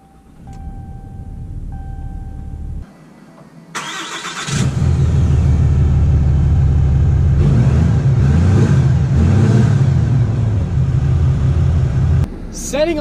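2019 Ram 2500 Laramie Sport pickup truck pulling away, a quiet cabin with faint tones giving way to a strong, steady engine and road drone that builds and holds, then eases slightly at the end.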